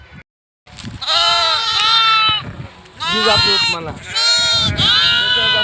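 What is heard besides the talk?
sheep and lambs bleating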